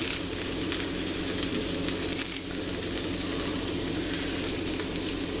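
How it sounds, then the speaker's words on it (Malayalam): Steady sizzle and crackle of curry leaves frying in hot oil in a pan with sardine peera, a dense continuous hiss throughout with small pops, close and unbroken. "കുറച്ച് കറിവേപ്പില ഇട്ട് കൊടുക്കാം."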